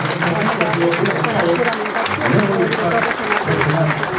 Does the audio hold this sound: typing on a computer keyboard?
no